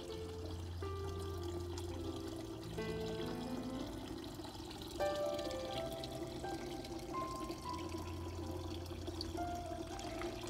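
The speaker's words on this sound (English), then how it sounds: "This water fountain right here" A backyard garden water fountain runs with a steady, close pouring trickle, while musical tones play over it throughout.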